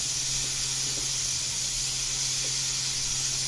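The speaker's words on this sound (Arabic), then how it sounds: "نزلت عليها بفصين ثوم، كام فص ثوم كده، وحطيت زيت. انا هعمل الصلصه دي بزيت. خلاص. واشوحهم مع بعض كده" A few garlic cloves sauté in oil in a pot, giving a steady, close sizzling hiss that holds without a break over a low background hum, with no voices.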